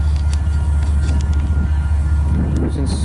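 A freight train rolling along the rails, with a steady heavy low rumble of cars and wheels close by, faint clanks and a light squeal near the end, and some talking over it.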